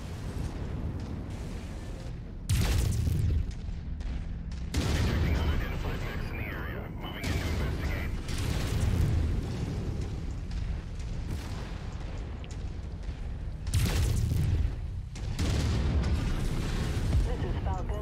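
Tank being destroyed in MechWarrior 5, heavy booming explosions in several loud bursts over a continuous rumble of fire and battle noise, with voices talking throughout.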